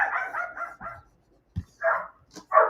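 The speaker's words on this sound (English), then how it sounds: "Oh, there's a dog barking outside." A dog named Juju barks outside in a short burst of several yapping barks, followed after a pause by a few more scattered barks, moderately close and with no talk.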